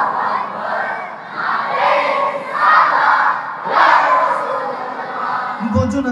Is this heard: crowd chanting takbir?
yes